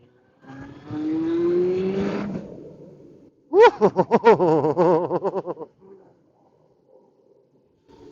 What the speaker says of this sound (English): just listen to this inline 4